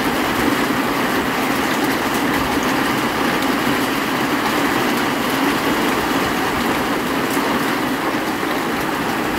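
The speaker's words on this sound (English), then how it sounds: "Oh no, there's still hail." Hail pelting down during an Arizona storm, a steady dense loud patter of hits that continues without a break, with no talking over it.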